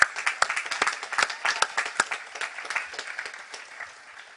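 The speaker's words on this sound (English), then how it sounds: "So clap yourselves for what you've accomplished." Graduates at a 2011 commencement ceremony clap for themselves, a moderate, uneven patter of many hands with sharp individual claps standing out, fading slightly toward the end.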